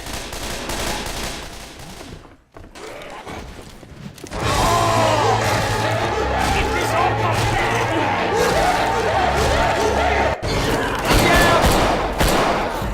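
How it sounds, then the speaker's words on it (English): Sustained automatic gunfire from Left 4 Dead 2, on a custom Half-Life 2 Highway 17 campaign, rattles on loud and dense for several seconds after a short pause. Voices shout and chatter underneath. "Let's try shooting."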